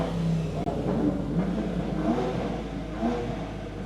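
A loud BMW 340 with a modified, loud aftermarket exhaust revs up close by, its deep, steady roar rising and falling slightly throughout with no talking.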